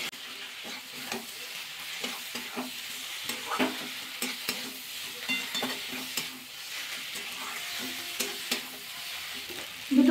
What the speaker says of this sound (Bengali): আর একটু 2-1 মিনিট কষিয়ে নেব সোয়াবিন দিয়ে।